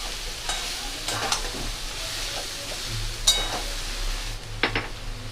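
Soybean mixture stir-fried in a pan for soybean paratha, with a steady sizzle and repeated scraping strokes of a spatula against the pan, some sharper clinks standing out near the end.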